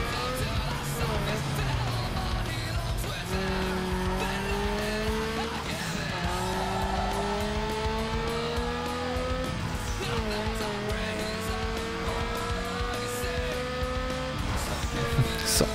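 Race car engines in Need for Speed: Underground 2 rev and climb through gears across a long stretch of driving, with rising whines, tire squeals and skids, and a voice talking over them.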